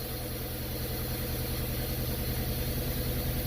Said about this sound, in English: It's misfiring.